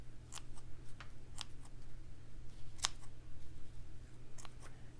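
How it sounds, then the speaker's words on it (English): Scissors trim loose thread scraps from a slow-stitched fabric heart. A series of crisp, quiet snips comes at an irregular pace over a soft, steady background hum. "with a pair of scissors, I can just trim up anything that stands out that I don't want on this heart"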